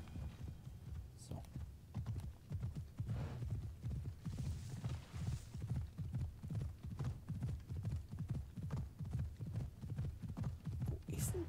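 Horse hooves clip-clop steadily in the video game Assassin's Creed Odyssey, a fast, even trotting rhythm that stays fairly quiet and continuous throughout.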